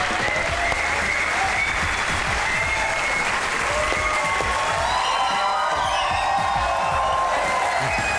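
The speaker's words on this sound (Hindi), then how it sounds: "आपकी भरपूर तालियों में the great bureaus Sabzwari and Javed Sheikh." A talk-show studio audience breaks into loud, sustained applause to welcome guests, thick continuous clapping with faint cheering mixed in and no pause for its whole length.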